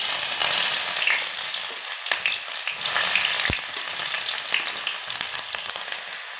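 Finely chopped onions sizzle in hot oil in a pan, a loud, dense, close frying crackle that runs steadily throughout with a few faint stirring taps.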